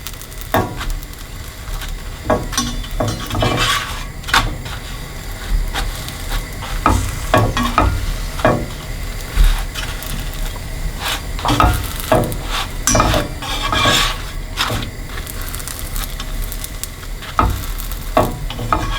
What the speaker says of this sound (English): that's the last of our dhal puri in the pan. Just keep pressing it aside.